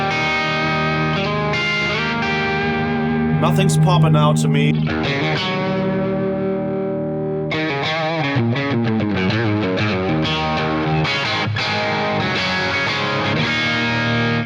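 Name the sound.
Telecaster electric guitar rhythm playing with compression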